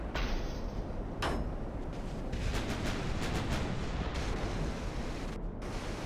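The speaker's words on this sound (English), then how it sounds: "There's not as much gunfire happening, so that's always a disappointment." Naval artillery fire in the Ultimate Admiral: Dreadnoughts warship game, a dense continuous rumble of cannon blasts with several sharp bangs standing out, loud and unbroken with no talking.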